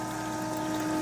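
A home air-conditioning condensate pump moves water from the air handling unit with a steady, continuous hum and watery churn, close and unbroken, with no talking.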